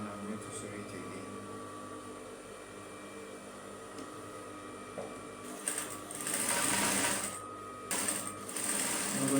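A sewing machine stitches a straight skirt, its motor whirring in steady runs that grow louder toward the end, recorded close over a faint room hum.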